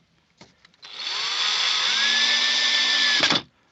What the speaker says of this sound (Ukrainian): Трошки розсверлимо, щоб топила шляпка шурупа і обережно закручуємо шурупи